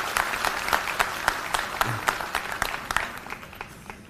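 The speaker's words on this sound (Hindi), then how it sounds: "एक बार जोरदार तालियां हमारे सभी माता बहनों के लिए।" Enthusiastic clapping from a crowd at a BSP party workers' meeting in Maharashtra, dense and steady at first and then gradually thinning out and fading.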